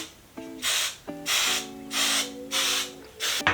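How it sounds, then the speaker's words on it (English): Hairspray is sprayed onto hair for a cheerleading hairstyle, four or five loud close hissing bursts separated by short pauses, with faint tonal sounds between them. "we're gonna give her a good old spray again"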